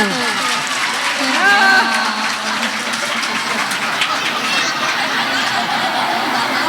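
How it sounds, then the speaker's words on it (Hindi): A live stage-show audience in Parhda claps steadily throughout, a dense broadband patter of hands with some voices and a faint tonal line riding over it. "एक बार जोरदार ताली बजा दो"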